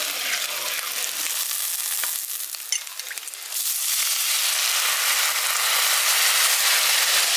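Water poured into sizzling spiced masala in a pan for a village-style potato curry, a loud steady frying hiss that dips briefly, then surges back stronger and keeps crackling.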